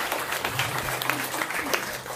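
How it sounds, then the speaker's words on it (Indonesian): A small indoor audience claps for Anies Baswedan at a diaspora gathering in Taiwan, a brief steady patter of applause with a voice faintly under it. "Kita beli tepuk tangan dulu untuk Pak Anis"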